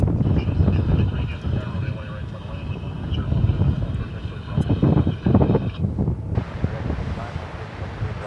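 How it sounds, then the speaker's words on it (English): An Airbus A321 airliner on a flight to Denver produces a loud, sustained broadband engine roar with a whining tone that cuts off near the end, while a voice talks over it. "That's flight 2579 to Denver. It's an Airbus A321."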